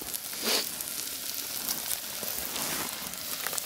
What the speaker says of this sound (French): j'ai lancé les oignons. Ça rissole tranquille.